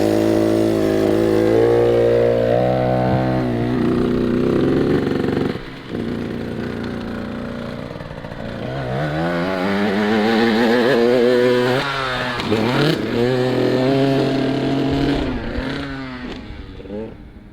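A dirt bike engine revs hard during motocross riding, its loud buzzing note climbing and dropping through repeated throttle bursts and gear changes, with a brief dip near the middle and a voice speaking partway through.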